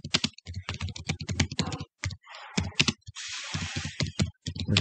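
Rapid keystrokes on a computer keyboard while text is entered in MS Word, clicking in quick uneven bursts with short pauses between words, close and clear with no talking.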